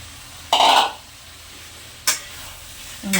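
Boiled jackfruit is stirred into fried spices in a pan, giving a few separate scraping, sizzling bursts at irregular intervals with a faint quiet background between them.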